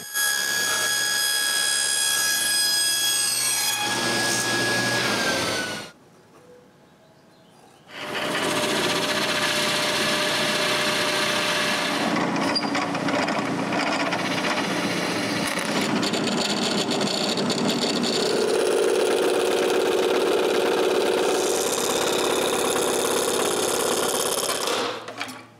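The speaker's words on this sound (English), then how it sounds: "Now I can trace the final shape and cut a piece of plexiglass." A power tool cuts a traced piece of plexiglass in a shop, a loud continuous whine that pauses briefly partway through, then resumes and runs steadily to the end.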